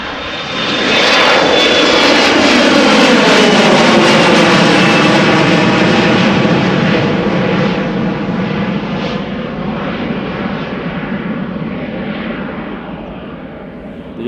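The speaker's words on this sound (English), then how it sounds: "another Embraer over here" An Embraer jet passes over Amsterdam Schiphol Airport with a loud, sustained engine roar that swells early, holds steady and then eases slowly as the aircraft moves away.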